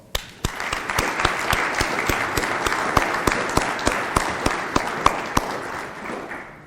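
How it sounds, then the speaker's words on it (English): An audience applauds the parents at a military signing day ceremony, a dense, steady round of clapping with a few louder individual claps standing out, sustained and fairly loud with no talk over it. "Let's give you all a round of applause."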